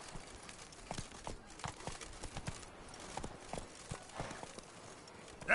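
Hooves of Roach, a horse in a video game, clip-clop at a slow, uneven walking pace, fairly faint, with light ambient noise and a brief louder bump at the end.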